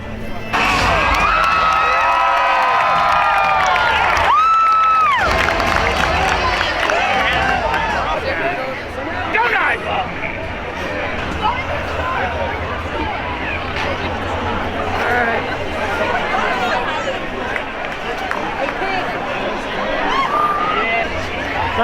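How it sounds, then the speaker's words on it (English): Crowd at Knott's Scary Farm opening night, a Halloween theme park event in 2021, loud and close, with cheering, shouting and dense chatter that stays steady throughout, a few sharp whoops rising above the babble. "Let's just let this crowd disperse a little before we go anywhere."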